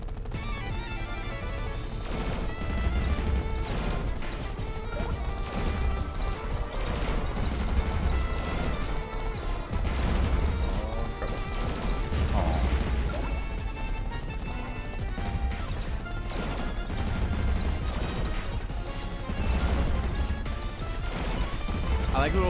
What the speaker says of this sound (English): I like little scrungy red bullets that come out.